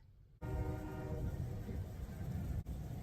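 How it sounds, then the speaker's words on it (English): A train horn blares in one long, steady blast over rumbling background noise, briefly broken by a short gap. "Did y'all hear that train? The whistle?"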